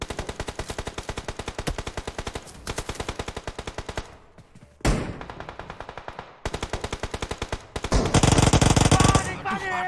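Automatic gunfire in the PUBG Mobile video game rattles in rapid, evenly spaced bursts, loud and close, broken by short pauses, with one heavier, denser burst near the end.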